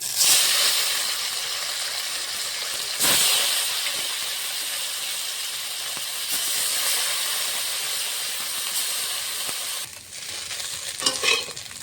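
Small fish fry in mustard oil in a kadai, a long, even hiss and crackle with a few sharper bursts and a brief dip and clatter toward the end.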